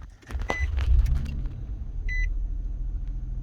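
A 2009 Nissan Murano engine cranks and catches close by, then settles into a steady low idle rumble, with a couple of short electronic beeps sounding partway through.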